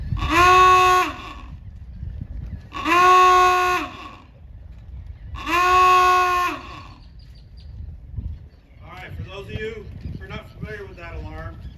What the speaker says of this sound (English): We've executed the signal for surfacing